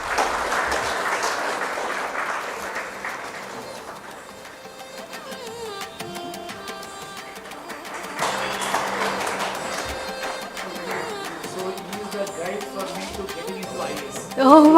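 An audience at a book launch event applauds to welcome a guest, a sustained wash of clapping that dips in the middle and swells again, with tones and a few voices underneath.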